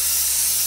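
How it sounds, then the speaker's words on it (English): June Tailor quilt basting spray hissing steadily from an aerosol can onto quilt batting, a close, continuous even spray with no pauses. "working about 12 inches away from the batting, go ahead and spray"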